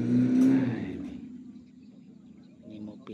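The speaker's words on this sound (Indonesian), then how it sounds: "Ini mobil antik" An antique car engine revs up loudly nearby, then settles into a lower fading idle with a small rise again near the end, while someone talks over it.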